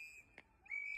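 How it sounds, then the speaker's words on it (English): Bystanders at a protest blow whistles at federal agents: a shrill, steady whistle tone runs nearly throughout, swelling louder near the end, with a brief burst of crowd noise in the middle. "Bystanders are blowing whistles and yelling at federal agents."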